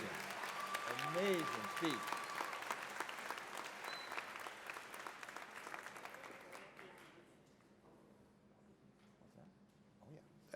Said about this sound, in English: I'd also like one more round of applause for Reverend Winterbourne Harrison Jones